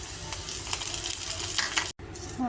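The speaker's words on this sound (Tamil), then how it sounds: "இப்போ இஞ்சி பூண்டு பேஸ்ட் போடுறோம்." Onions fry with ginger garlic paste in a pan while a prawn pepper fry is being cooked. A close, steady sizzle carries scraping stirs throughout and breaks off in a brief silence just before the end.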